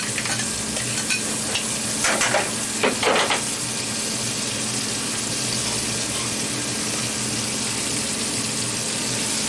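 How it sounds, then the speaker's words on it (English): Shrimp and mussels sizzle steadily in a hot pan for a shellfish fra diavolo, a constant close frying hiss with a few brief scraping bursts early on, no talking. "Then we'll put in the 4 or 5 shrimp, mussels."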